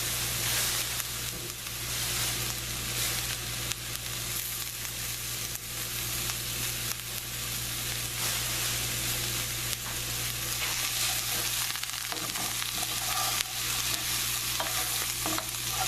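Food sautés in olive oil in a pan, a loud, steady, close sizzle that runs unbroken, with light stirring scrapes now and then over a constant low hum.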